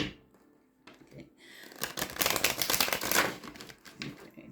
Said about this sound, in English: Let's get you some shuffles in here from the Alien Tarot